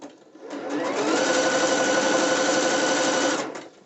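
A sewing machine stitches elastic band onto dancewear in one steady close run of about three seconds, speeding up and slowing to a stop, with no talk.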